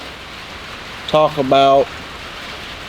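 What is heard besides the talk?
rain falling outside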